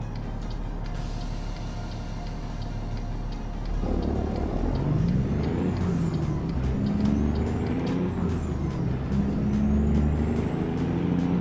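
An 18-wheeler's air brake engages in American Truck Simulator, a short pneumatic hiss over the steady low rumble of the truck's engine, with the drone swelling as the rig moves on.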